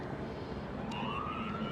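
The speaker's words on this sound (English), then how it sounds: "You can hear the sirens there." A police siren wails faintly in the distance along a Los Angeles street, its rising tone coming through a constant wash of city and crowd noise.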